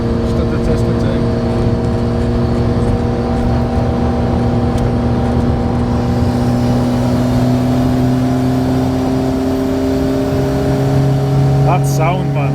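A mint Ford Sierra RS Cosworth's engine runs with a steady, loud low drone and sustained harmonic tones, close by and continuous throughout, with people talking over it.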